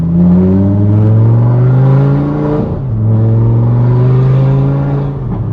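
A rebuilt Audi R8 engine revs hard through downshifts, with loud sustained harmonic engine tones that climb, dip briefly and then rise again, heard up close with no talking.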